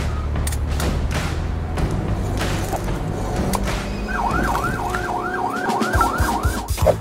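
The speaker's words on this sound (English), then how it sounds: "then one of them might have a siren and blue lights on top" A police car siren wails in a rapid rising-and-falling pattern, starting partway through amid loud street and traffic noise, fairly close and growing stronger toward the end.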